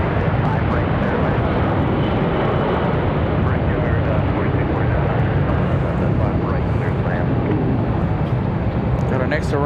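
An American Airlines jet departs from Raleigh-Durham International Airport for Charlotte with a loud, steady, broadband engine roar that fills the whole stretch, and someone talks over it.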